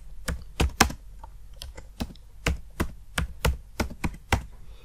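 Typing on a computer keyboard, a series of crisp, close key taps in an irregular rhythm over a quiet background with no talking.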